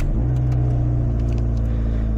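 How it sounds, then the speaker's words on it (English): Heavily modified 2013 Abarth 500, its engine idling and revving with a deep, steady, loud rumble close by, and no talk. "drive in my 2013 heavily modified Abarth 500"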